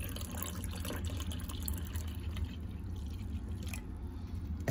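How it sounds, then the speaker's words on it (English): Body Armor sports drink pours steadily into a container, a continuous liquid splash and trickle filling the clip up close with no talk. "open up your body armor. Then just pour it gently."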